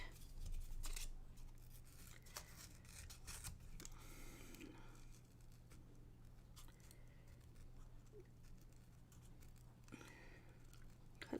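Scissors snip through small paper pieces stuck on a Post-it note at close range, giving quiet, irregular crisp cuts and rustles over a steady low hum.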